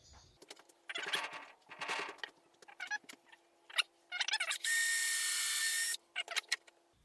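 A power drill drives screws into wood while a gutter ball board is assembled: scattered knocks and handling noises come first, then one steady whirring burst of about a second, followed by a few more short clatters. No one speaks.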